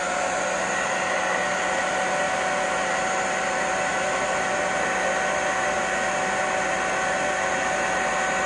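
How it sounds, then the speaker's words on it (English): An old blow dryer runs steadily, aimed at a Siemens smoke detector during an alarm system test, giving a loud, constant whooshing hum with a fixed whine from start to finish. "So let's take our blow dryer and turn it on."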